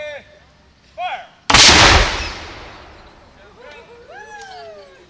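Cannons firing in turn: a short sharp crack, then a much louder deep boom that rumbles away over several seconds, with voices and shouts heard faintly in the background afterward.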